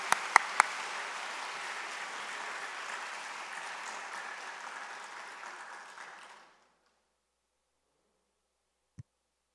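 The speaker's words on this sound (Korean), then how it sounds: "박수 한번 쳐주세요." A church congregation at a Sunday service applauds, steady and full for about six seconds before fading into silence, with one faint knock near the end.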